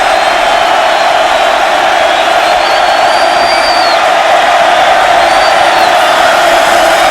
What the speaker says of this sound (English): the crowd coming to life on a 3rd and 8.